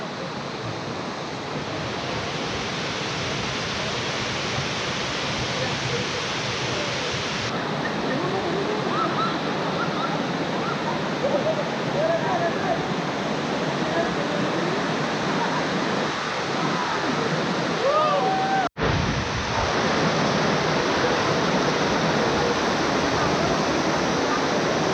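Heavy water pours continuously at a cliffside waterfall, a dense, loud, unbroken roar close to the microphone, with a brief dropout near the end and no talking.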